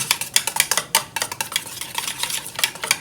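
A scoop mashes mango pulissery curry with cucumber in a pan, making quick, rhythmic wet squelches and scrapes up close, loud and without talk.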